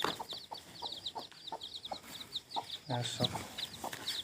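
A local hen clucks softly while her newly hatched chicks peep in quick, high, repeated chirps close by; a voice speaks a single brief word.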